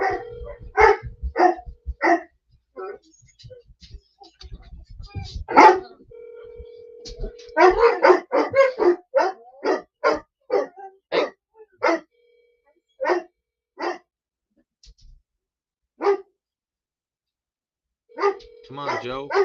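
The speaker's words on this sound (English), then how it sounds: "Apologize about the dogs barking." Several dogs bark in a house in Sarasota as someone arrives at the door, a run of sharp repeated barks and yips mixed with someone talking on a phone call, with a brief phone tone in the middle.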